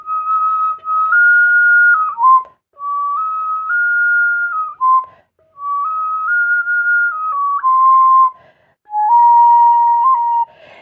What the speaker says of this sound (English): The thing with the tin whistle is it's hard to play half notes